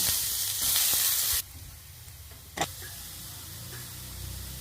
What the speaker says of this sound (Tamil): வெங்காயம் போட்டுக்கிறோம்.